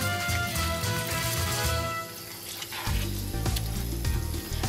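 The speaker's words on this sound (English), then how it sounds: "now we're going to add in 1/3 of our stock and stir it around for about 2 to 3 minutes" Hot stock poured into prawn and chorizo jambalaya rice in a hot pan, sizzling and bubbling steadily throughout with stirring, a brief dip then a renewed loud sizzle; no one speaks.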